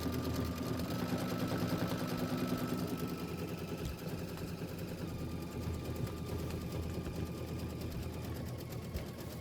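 A sewing machine stitching a Kimberbell quilt tiling scene block, a fast steady mechanical rattle that runs evenly throughout, moderately close and without talk.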